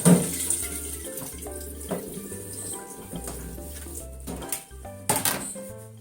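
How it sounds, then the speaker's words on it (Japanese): Washed myoga ginger being drained in a kitchen: intermittent splashing and trickling water with clattering knocks of a colander or container, loudest at the start and again near the end, close by. "みょうがの水切りしますね。"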